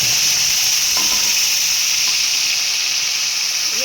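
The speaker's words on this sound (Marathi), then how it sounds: "आता आपण त्याच्यामध्ये कांद्याची पेस्ट जी आहे ती टाकून घेऊया" Onion paste hits hot oil already crackling with cumin and mustard seeds, producing a loud, continuous sizzling hiss that stays steady throughout, with no talking.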